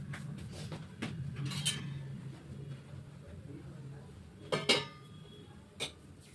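Utensils and dishes clink and clatter in a kitchen during luchi preparation, a few sharp scattered knocks and rattles, clustered near the start and again later, under a soft background hum.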